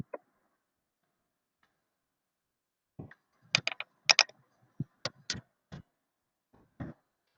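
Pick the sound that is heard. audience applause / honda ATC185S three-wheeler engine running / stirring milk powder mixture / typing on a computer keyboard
typing on a computer keyboard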